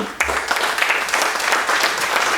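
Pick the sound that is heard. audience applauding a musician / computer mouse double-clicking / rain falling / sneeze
audience applauding a musician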